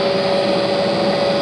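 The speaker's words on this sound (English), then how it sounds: "Once the vacuum is on, make sure that it's completely tight" Vacuum hold-down pump running on a Laguna Smart Shop II CNC machine, a steady loud drone with a constant whining tone and no pauses.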